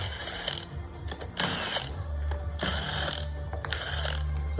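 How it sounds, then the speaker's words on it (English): A ratcheting tool, used with a 4mm Allen bit, clicks while removing the screws from the drum brake side of an Elektro 8 Pro electric scooter's rear wheel, with several bursts of rapid, close mechanical ticking over a constant background hum. "take these screws out."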